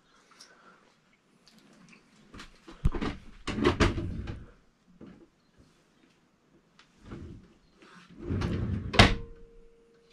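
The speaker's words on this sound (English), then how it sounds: "Bloody drawers come loose again." Wooden drawers in a camper van rattle and thump loose, with several clustered knocks and clatters spread over about ten seconds, close and fairly loud.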